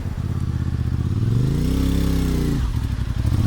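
Motorcycle engine revving hard on a mountain ride at Mt Marami, the pitch sweeping up and holding before dropping back to a rough idle, loud and close with no talk.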